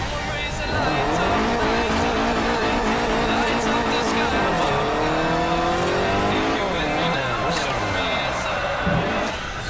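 A race car engine revving and accelerating in the racing game Forza Horizon, its pitch rising through the gears with tire squeal mixed in, loud and close, while someone talks over it.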